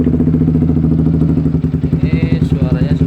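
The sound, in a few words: modified Yamaha Vixion motorcycle engine with aftermarket exhaust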